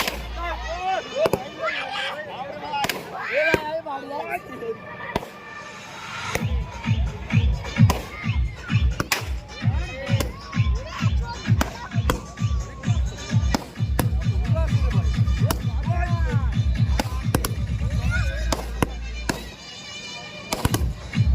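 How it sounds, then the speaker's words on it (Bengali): A fireworks display at the Chandanpur buffalo club ground sends out rapid strings of sharp cracks and bangs, sometimes in dense volleys, with crowd voices and talk underneath. "এই মুহূর্তে আপনারা দর্শন করছেন চন্দনপুর মহিষ ক্লাবের ময়দানে আতশবাজির প্রদর্শনী"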